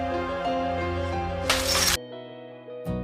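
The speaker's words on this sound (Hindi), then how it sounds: "क्रिश मैं मजाक नहीं कर रहा, मैं कांच तोड़ के अंदर आऊंगा" A pane of glass smashes in a short, bright burst of shattering partway through, set against a sustained musical score that drops away after the crash.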